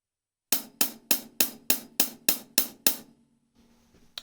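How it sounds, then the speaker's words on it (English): Nine crisp, evenly spaced hits on a closed hi-hat played with the tip of a drumstick, bright and close, each decaying quickly, followed by a short quiet tail. "they mainly only play it with the tip of their stick, which sounds like this."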